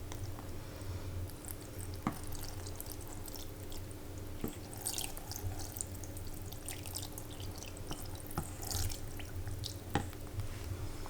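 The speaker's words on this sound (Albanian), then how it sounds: "Tash i qesim ujë. Këtu kom 1 litër ujë." Water is poured steadily from a container into a cooking pot, about a litre, while preparing stuffed hazelnut leaves; a continuous close splashing wash with a few small drips and clinks, and no voices.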